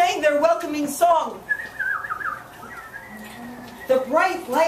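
A storyteller imitates birdsong with a run of warbling whistles during a children's tale reading, framed by spoken narration before and after.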